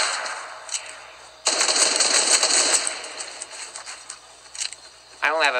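Rapid pistol gunfire in the Fortnite arena solos video game, a dense burst of repeated shots lasting over a second, then quieter scattered game sounds and a few more shots near the end.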